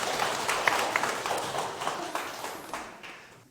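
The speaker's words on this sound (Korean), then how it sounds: "박수 한번 칠게요" Group hand clapping at a Korean lecture session, a round of crisp claps from a small audience that starts strong and gradually fades over a few seconds.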